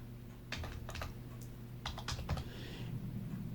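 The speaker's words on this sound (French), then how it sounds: "Donc je vais retaper 1920." Numbers typed on a computer keyboard, two short clusters of crisp close key taps separated by a pause, over a low steady background hum.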